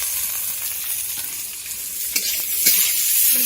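Boiled ghatkol leaves hit a pan of fried green chilli and garlic, giving a steady close hiss of sizzling oil, broken by a few sharp scrapes and clicks as the mixture is stirred.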